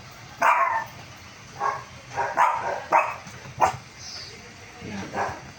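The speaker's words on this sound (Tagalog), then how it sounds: "Narinig ka tuloy ng aso sa baba. Nag-ingay na rin." Several sharp dog barks and yips in an irregular series, fairly close, with some background noise between them.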